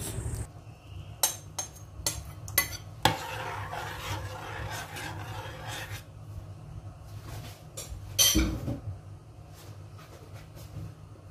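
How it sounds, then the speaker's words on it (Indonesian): Red date cake batter made with tapioca is stirred in a bowl, giving scraping and rubbing strokes with irregular clinks and knocks, close and moderately loud, with no talk. "Aduk adonan terlebih dahulu."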